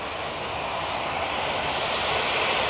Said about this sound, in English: Pretty subdued departure there for a 330